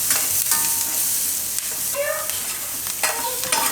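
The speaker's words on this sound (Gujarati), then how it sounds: "સિંગદાણા શેકાઈ જાય ને લસણ ને થોડુંક લાલ થઈ જાય એ રીતે આપણે શેકી લેવું" Peanuts and garlic roasting in a little oil in a pan, giving a steady close sizzle with intermittent stirring scrapes throughout.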